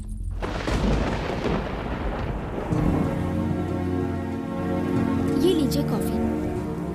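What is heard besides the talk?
rain falling with thunder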